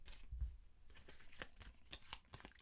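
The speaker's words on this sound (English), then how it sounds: "So what you do is you shuffle these up" Board game cards for Last Aurora being shuffled by hand at a table: a quiet, close run of soft riffling flicks and papery snaps in an uneven rhythm, with a dull knock near the start.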